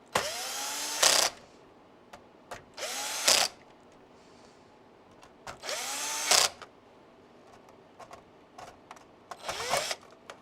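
Electric screwdriver set to low torque driving screws during a monitor repair, giving four separate whirring bursts about a second long, each winding up and stopping, with quiet handling sounds and faint clicks between them.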